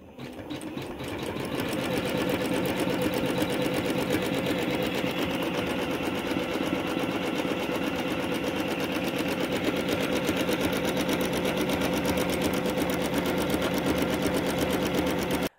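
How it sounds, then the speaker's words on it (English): A home sewing machine stitches fabric for a collage pillow, running as a steady, close, fast mechanical whir and clatter without a pause. "So here's some footage of my machine stitching that too."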